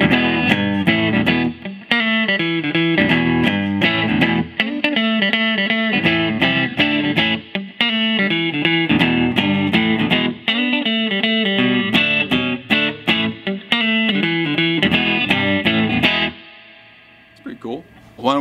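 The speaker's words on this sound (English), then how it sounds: "We have the 1966 Epiphone Riviera going through a stock 410 Hot Rod DeVille." A 1966 Epiphone Riviera on its neck mini humbucker plays through a stock 4x10 Hot Rod DeVille amp. It sounds as loud, driven, distorted chords and riffs in choppy rhythmic bursts for about sixteen seconds, then a short faint tail.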